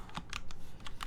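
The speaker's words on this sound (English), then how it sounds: "This one, it's not plugged in, but I'm just gonna pretend I'm typing stuff." Rapid clicky keystrokes on an unplugged mechanical keyboard with Gateron Milky Yellow switches, close and fairly quiet, tapping in an uneven rhythm over a faint background hum.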